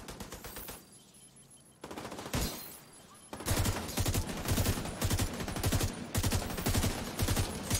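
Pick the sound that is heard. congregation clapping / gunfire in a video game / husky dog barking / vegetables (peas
gunfire in a video game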